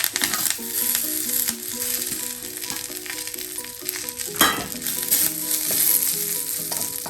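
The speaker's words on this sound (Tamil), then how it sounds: "நம்ம ஆல்ரெடி கருவேப்பிலை எடுத்து வச்சுருக்கீங்க, அதை அலசி வச்சுட்டு இதில் போட்டுடலாங்க எண்ணெயில்." Washed curry leaves dropped into hot oil with urad dal, crackling and sizzling loudly and close, while a repeating tonal background pattern runs underneath.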